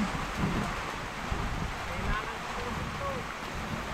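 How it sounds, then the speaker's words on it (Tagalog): Steady, dense rain pours down with a constant broadband hiss, loud and close, without letup. "Yan oh, malakas yung ulan."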